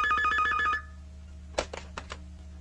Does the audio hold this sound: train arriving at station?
no